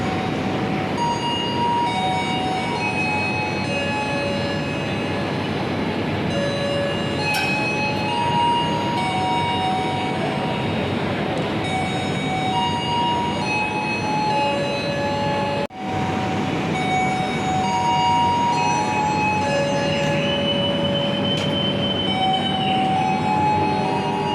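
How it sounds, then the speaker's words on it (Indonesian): Tawang Jaya Premium train departing Semarang Poncol station in Indonesia, heard from on board as a steady loud rolling rumble with ringing tonal hums and squeals lasting throughout, with a brief dropout midway. "Persiapan berangkat kereta api Tawang Jaya Premium dari stasiun Semarang Poncol."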